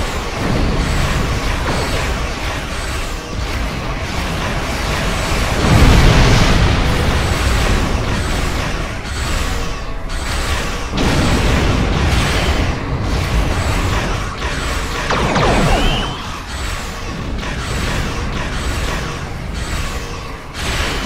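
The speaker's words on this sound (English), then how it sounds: "I need to give him a torpedo real quick." A torpedo detonating in a space combat video game against a destroyer, with heavy booming blasts around the middle and again later, over a constant dense rumble of battle noise.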